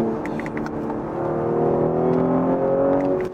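Audi S5 coupe TFSI engine and exhaust heard from inside the car, a smooth steady drone that swells slightly as it pulls, with no talk over it.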